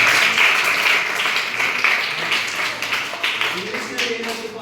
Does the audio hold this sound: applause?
yes